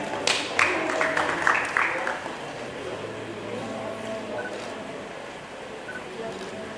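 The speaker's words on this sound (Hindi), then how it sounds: "जोरदार तालियां।" Applause from an audience at a book release for "Tera Bayaan Ghalib", a dense crackling patter of many hands clapping, louder at first and then easing into a steady softer wash.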